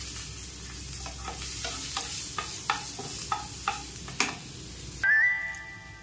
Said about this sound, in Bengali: এই তেলের মধ্যে কেটে রাখা টমেটোটা দিয়ে দিই।